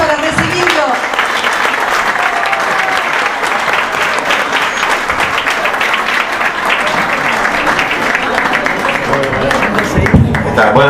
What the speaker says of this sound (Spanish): El aplauso para recibirlo.